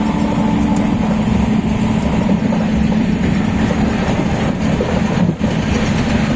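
A Duronto Express sleeper train runs at speed on a Chennai–Dehradun journey, giving a loud, steady rumble with continuous rail noise and faint clickety-clack from inside the carriage, and no talk.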